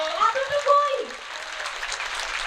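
Congregation at a revival meeting in Faridpur keeps up steady, moderately loud clapping, with a preacher talking over it at first.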